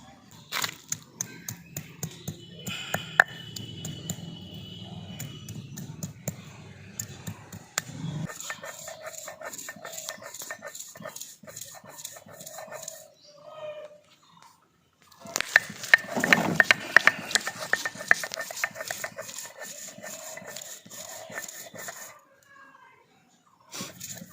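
Ginger and green chillies being ground into a spice paste by hand, rhythmic tapping and scraping strokes in two long bursts separated by a pause, close and fairly quiet, with a rooster crowing faintly in the background.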